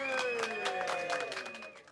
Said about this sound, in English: massive, massive round of applause as we declare the shop open